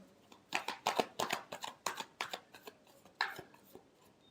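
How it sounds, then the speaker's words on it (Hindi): Tarot cards are shuffled by hand in a quiet room: a series of brisk, papery riffling bursts in an uneven rhythm, close and fairly soft, with no voice over them. "last shuffle,"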